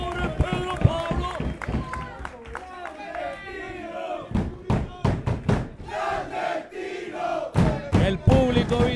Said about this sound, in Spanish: El público vitorea y grita lo que quiere sentir y lo que siente.